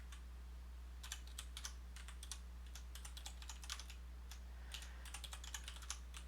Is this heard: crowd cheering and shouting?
no